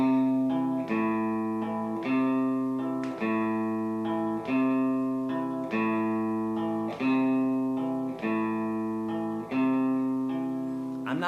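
Slow hybrid-picked guitar lick, a clean electric guitar played alone with pick and fingers, ringing notes in an even repeating phrase of roughly six or seven measured bursts, close and steady in level.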